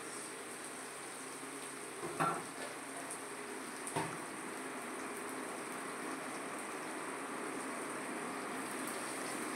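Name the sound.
crushed ginger and green chili frying in a pan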